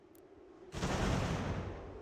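Cannon artillery fires in the Ultimate General American Revolution video game, one sudden loud boom that rolls out into a long rumbling decay after a quiet start.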